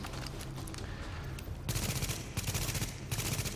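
M4 rifle gunfire in The Division video game, rapid bursts of shots cracking over a steady game soundscape, loud and close.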